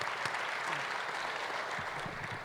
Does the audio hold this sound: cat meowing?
no